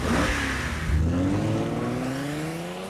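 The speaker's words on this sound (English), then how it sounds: "The new 375 horsepower Hyundai Genesis can go from 0 to 60 faster than a Porsche Boxster." A 375-horsepower Hyundai Genesis accelerates hard, its engine note climbing steadily in pitch as it revs up, loud and close throughout with no talking.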